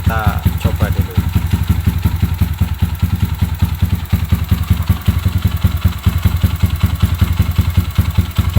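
A Kawasaki KLX dirt bike fitted with a PE 28 carburetor and BRT CDI idles up close with a steady, rapid, slightly uneven thump that runs throughout, loud and continuous.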